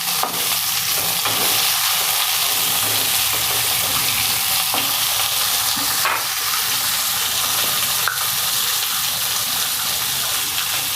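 Drumstick (moringa) curry being stirred and mixed in a hot pan, a constant loud sizzle with scraping and stirring noises and a few sharp clinks of the utensil against the pan.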